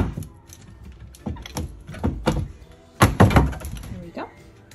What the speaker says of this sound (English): Close these doors back.